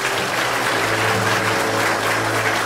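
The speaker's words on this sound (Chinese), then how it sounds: "也请大家一起给他们热烈的掌声。" An audience at a civil-service outstanding-contribution awards ceremony gives warm, sustained applause for the honourees. The dense, even clapping fills the hall at a steady level over a low background hum.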